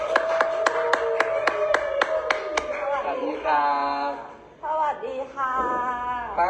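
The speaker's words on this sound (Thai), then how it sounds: "ขอเสียงปรบมือต้อนรับ เจ้าของมันเกิดเลยครับ" A small group claps in a steady, rhythmic beat at a Thai birthday gathering, welcoming the birthday person. The clapping fades after a couple of seconds as voices take over and talk continues.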